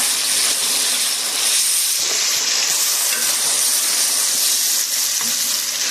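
Ginger garlic paste sizzles and spits in a hot pan, a loud, dense, continuous frying hiss with faint stirring scrapes underneath.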